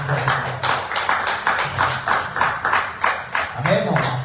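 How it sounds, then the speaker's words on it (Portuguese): A church congregation claps together in a steady, even rhythm of repeated beats, fairly close and loud, with a voice speaking over it near the end. "e mais uma vez as palmas da igreja para o nosso Deus"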